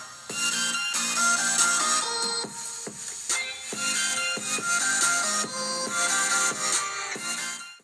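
Music plays through the quad speakers with Dolby Atmos on a OnePlus Pad tablet, a steady full-range track with a rhythmic beat running continuously at moderate volume, with no talking.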